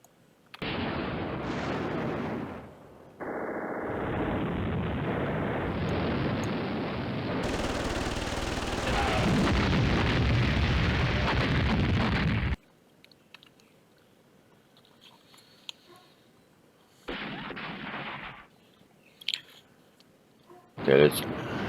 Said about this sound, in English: I do want an airstrike over here